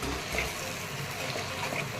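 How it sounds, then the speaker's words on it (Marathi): Steady rushing pour of water into a new pressure cooker holding spiced rice with coriander, a continuous gushing wash of sound close by with no talking. "आणि आता पाणी टाकून घ्यायचं आहे आपल्याला"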